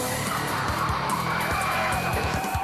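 A rally car skids through a narrow hairpin turn in a race in Spain. The skid is a loud, continuous broadband roar with engine noise and sharp tire scrubbing bursts throughout.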